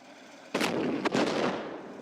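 A heavy tank cannon blast in the video game Arma Reforger booms suddenly, followed by a second quick shot and a rumbling echo that lingers, loud and close.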